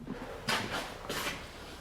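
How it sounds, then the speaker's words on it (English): A door opening or closing inside a house, faintly heard as two soft, quick knocks or thuds about half a second apart in a quiet room. "Sounded like a door or something."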